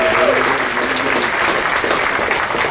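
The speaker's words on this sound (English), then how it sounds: "give another round of applause" An audience at a foundation scholarship event applauds, a dense, steady round of clapping from a crowd throughout.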